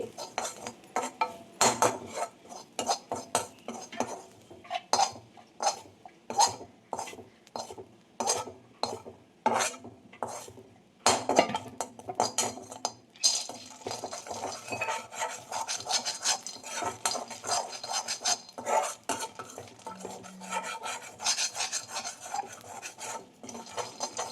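Grated coconut roasting in a pan is stirred with a metal spoon, giving rhythmic scraping and clinking strokes against the pan, close and continuous, with denser rubbing later on.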